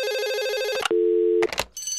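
Ringtone announcing a trade during a 2024 sports mock draft: a loud electronic warbling tone, then a sustained steady beep, a short burst of clicks and the warble returning, all close and clear with no talk.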